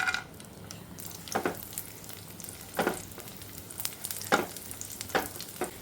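Cashews and raisins frying in ghee in a pan, a soft steady sizzle with several brief louder stirring scrapes at regular intervals, close by with no talk.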